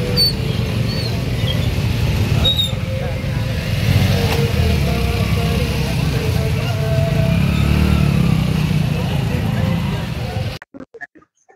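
Motorcycles in a flagged-off bike rally rumble past in a continuous, loud engine drone with occasional revving, mixed with crowd voices, before the sound cuts away abruptly near the end.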